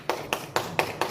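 A lone person claps in a hall during a regional election candidates' speech meeting: five sharp, evenly spaced claps, fairly quiet, with no other sound around them.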